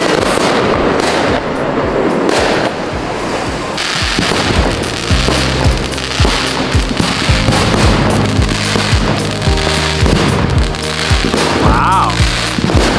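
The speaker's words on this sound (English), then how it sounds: "there's fireworks on the beach from a wedding" Wedding fireworks going off over a beach in Costa Rica, a rapid run of crackling bursts and sharp pops with occasional deeper booms, fairly close and loud, with voices reacting in the background.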